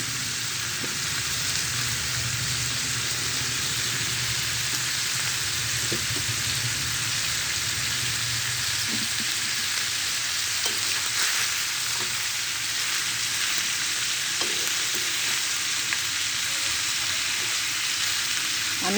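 Sliced potatoes, onions and bitter gourd fry together in hot oil with a dense, continuous sizzle, broken now and then by faint clinks and taps, steady and close with no talking.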